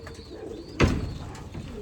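Young racing pigeons coo in a loft during a cold day, with a soft murmuring coo and a brief louder burst of flutter partway through over steady low background noise.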